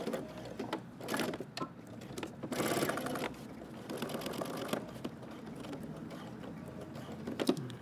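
A sewing machine runs top stitching along fabric, a close mechanical whir in uneven bursts with clicks and handling noises between runs.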